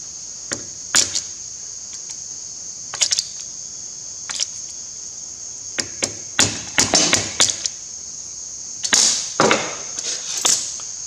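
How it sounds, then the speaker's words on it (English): Sharp metallic taps and clicks come in scattered short bursts as a screwdriver pries open lock tabs on the screws of a Ferguson FE35 injection pump, close up over a steady high whine, with no talking. "So we just grab a screwdriver, we open them up a little bit."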